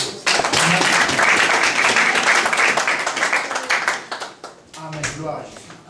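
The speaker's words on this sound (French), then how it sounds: "On peut l'applaudir aussi" A church congregation bursts into loud, dense applause that swells quickly, holds, then thins and fades toward the end as voices begin to come through.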